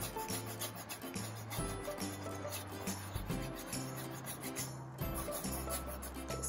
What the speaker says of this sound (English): Just very, very lightly scraping.